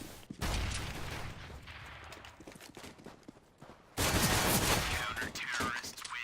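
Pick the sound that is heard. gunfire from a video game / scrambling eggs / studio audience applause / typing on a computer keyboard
gunfire from a video game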